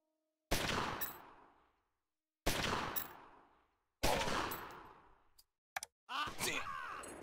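Three loud, close gunshot bursts from the gangster strategy game Omerta - City of Gangsters, each with a long decaying tail, followed by sharper clattering shots and noise at the end.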